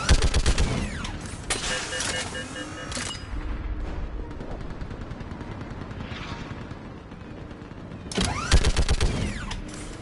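Dense bursts of gunfire crackle through a Mass Effect 3 battle on the bridge at Rannoch, loud at the opening, thinning into a rumbling mechanical drone, then erupting again near the end.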